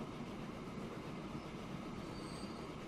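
Trains run on mountain railway tracks in the video game Transport Fever. Rolling wheel noise forms a steady, faint rumble with a brief thin wheel squeal partway through.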